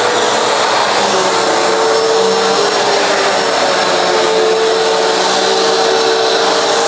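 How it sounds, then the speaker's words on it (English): A Bissell CleanView Reach vacuum cleaner runs steadily up close, a loud, constant motor whine and airy roar with a faint high tone, no talk over it. "we can get back to vacuuming."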